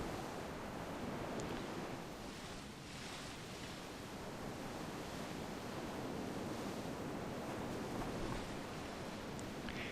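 Steady wind in the Grandia 2 video game, a dense continuous rushing noise, constant in level, with no voices.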